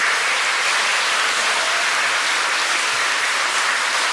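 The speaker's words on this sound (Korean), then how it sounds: "커다란 박수 한번" Audience applause at a Korean political gathering on child welfare policy, a steady dense wash of many hands clapping, loud and sustained throughout with no voices over it.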